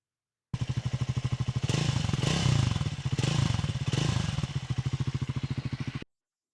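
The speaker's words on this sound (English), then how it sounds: "We'll check out that exhaust note again." A Triumph 400X Scrambler single-cylinder engine idles with a steady, rapid thumping exhaust pulse, swells into a few throttle blips in the middle, then settles back to idle, close and alone.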